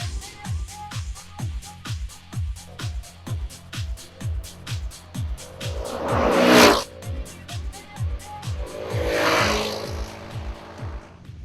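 A Vespa scooter's small engine putters in a steady, even rhythm while riding on the road, with two louder whooshes swelling and fading as traffic rushes past nearby.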